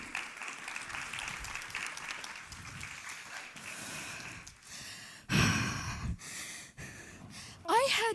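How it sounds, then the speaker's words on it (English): Audience applause for a startup team at a pitch competition festival, a steady crowd clapping through most of the stretch with a louder burst near the end and some breathy sounds. "second round of applause for Wego"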